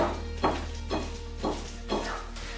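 Salted, well-seasoned chicken breast strips are stirred in a bowl, giving a steady series of soft, wet scraping strokes about every half second, close up with no talking.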